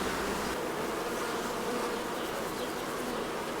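Honey bees buzz around hives at a traditional family apiary, a dense steady drone of many insects close by, continuous and unbroken with no voices.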